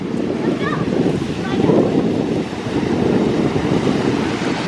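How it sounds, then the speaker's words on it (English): Ocean waves breaking on a cold, windy beach, a steady roaring wash of surf with heavy wind buffeting the microphone, continuous and close. "Just a lot of waves, but it's not dangerous waves."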